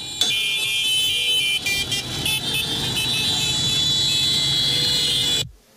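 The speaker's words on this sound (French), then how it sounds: "À Boromo, Zéphirin Diabré est accueilli dans un concert de sons et de klaxons." Car horns sound in a crowded concert of honking at a political rally welcome for a party leader in Boromo, Burkina Faso, with loud, sustained overlapping tones blaring continuously before cutting off abruptly.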